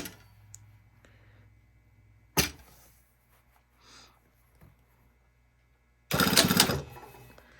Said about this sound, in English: we're just going to sew the top sleeve to the bottom sleeve